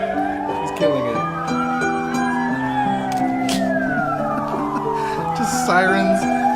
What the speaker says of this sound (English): Just sirens, fire, people throwing rocks, flashbangs going off.